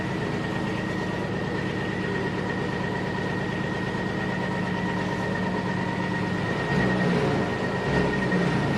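A train engine idles at a heritage railway with a continuous, loud, droning rumble and a steady whine, broken near the end by a brief low surge.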